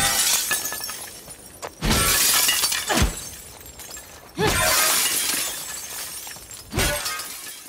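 Glass windows shattering in The Last of Us Part II, four separate loud crashes, each a sharp break followed by a spray of tinkling shards, spaced a couple of seconds apart with quiet between.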